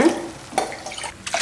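Water is poured into rice in a pot for cooking lemon rice, a steady splashing pour with a few clinks and splashes, close and moderately loud.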